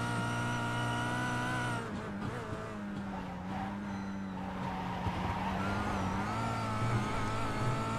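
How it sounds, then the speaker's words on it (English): In a touring car racing video game at Oulton Park, a car's engine holds a steady high whine while its tyres spin and scrub, with shifting revs throughout. "Just listen to it, wheel spinning."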